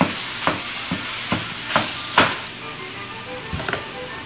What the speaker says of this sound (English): And we're gonna break up this ground beef nicely.